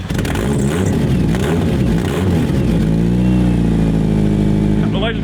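A 90s Acura Integra engine turns over and catches, then runs and revs with rising and falling tones, loud and close, with people talking over it.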